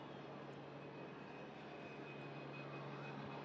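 A 43-year-old Reims Cessna light aircraft overflies an airfield. Its engine gives a faint, distant, even drone with a steady hum and no break.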